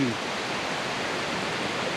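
A waterfall near Betong in southern Thailand, with mist in the air and rain falling, gives a steady, loud, broadband rush that stays even and unbroken throughout, with a brief faint voice-like tone at the very start.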